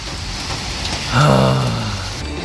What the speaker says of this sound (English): That rain outside looking crazy.